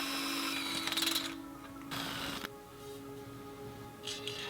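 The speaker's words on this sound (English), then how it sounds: "used a square to hold the crossbar in place as I drilled the mounting holes." A drill boring mounting holes through the crossbar of a full-suspension snow sled frame, with short whirring bursts and a steady motor hum in between, close up and moderately loud with no voices.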